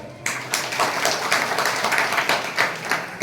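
An audience claps in honour of Sadashiv Kanwade Guruji at a village gathering, a dense run of many hands rising in loose bursts for about three seconds, fairly close and without speech.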